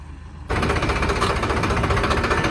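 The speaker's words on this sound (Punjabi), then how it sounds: "ਉਹ ਚੱਲ ਰਿਹਾ ਜਨਰੇਟਰ ਜੁੜਿਆ ਟਰੈਕਟਰ" A generator driven by a tractor on a farm runs loud and close, starting abruptly with a steady, dense mechanical rattle and drone that continues without a break.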